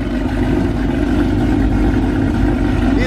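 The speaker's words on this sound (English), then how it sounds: "Let's get out the way before he revs it and I lose my hearing." A drag car engine at a night car show runs with a loud, continuous low rumble that holds steady throughout, close by.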